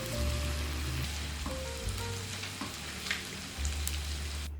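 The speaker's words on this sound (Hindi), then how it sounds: "अब इसमें ऐड करेंगे 1 चम्मच लहसुन अदरक का पेस्ट। इसे भी प्याज के साथ अच्छी तरह फ्राई करेंगे।" Garlic ginger paste sizzles and fries in a pan with browned onions, a steady, soft crackling hiss with occasional stirring scrapes and no talking.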